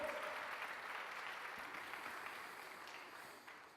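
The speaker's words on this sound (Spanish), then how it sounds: "Si va a dar ese aplauso, déselo al Señor con más fuerza" Applause from a church congregation during a sermon, a steady wash of clapping at moderate distance that stays even throughout and then thins slightly toward the end.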